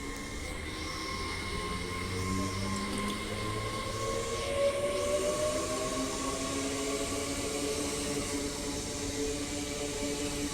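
A Class 805 train runs through Stafford station on the West Coast Main Line, a steady rumbling roar with a droning engine and rising tones, holding at a constant level throughout.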